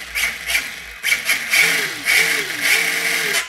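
A 25 kg RC street basher car runs on a 3S LiPo, its electric motor whining up and down in pitch as the wheels spin freely in repeated bursts, close and fairly loud.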